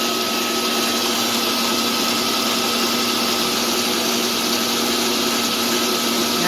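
A Heliarc Freegen generator runs under load, its engine a loud, steady whine with a constant hum throughout and no pauses or voices.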